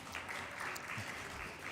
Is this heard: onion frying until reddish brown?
no